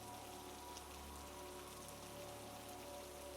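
Rain falls steadily on a surface outside a cozy cabin, a soft, even hiss of drops that stays constant and gentle, with no voices.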